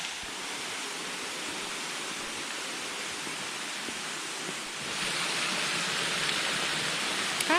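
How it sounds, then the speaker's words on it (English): Steady broadband rush of a waterfall in Frozen Head State Park, Tennessee, a constant hiss that swells louder partway through as if drawing nearer, with no voices. "Another waterfall."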